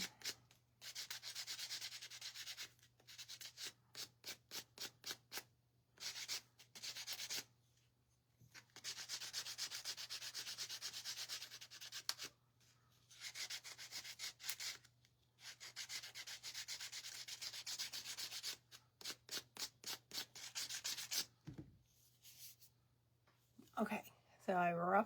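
Sandpaper rubs across a painted wooden spindle in repeated quick strokes, near and fairly loud, broken by short pauses between bursts, with a low steady hum underneath and a brief handling noise at the end.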